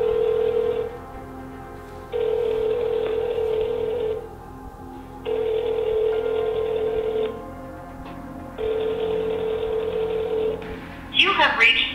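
An outgoing phone call rings back on the line, with repeated long ringback tones in a steady on-off rhythm, clear and alone, before a short burst of other sound at the end.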